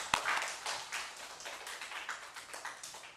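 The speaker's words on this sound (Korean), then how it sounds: "다시 한번 영광의 박수 돌리겠습니다." A church congregation gives a round of applause at the close of a sermon, a fairly faint, steady patter of many hands clapping in a large room, with one sharper clap near the start.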